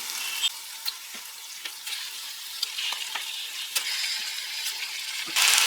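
Chicken pieces going into tomato gravy for a country-chicken biryani, frying and sizzling steadily while a spoon stirs and scrapes the pan with scattered clicks, up close with no talk.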